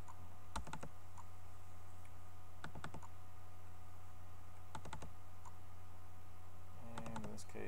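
Computer keyboard typing and mouse clicking at a desk, with short bursts of quiet keystrokes and clicks spaced out over a steady low hum, faint and close.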